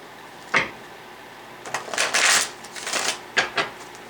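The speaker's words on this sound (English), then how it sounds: "One more shuffle, or two more shuffles." A tarot deck being shuffled by hand, close-up papery riffles and slides in a few quick bursts, with a single snap early on and soft room tone between.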